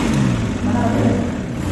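A classic Nissan Gloria Super Deluxe engine runs close by, holding a steady, low, rumbling drone with a slight rise in revs and no pause.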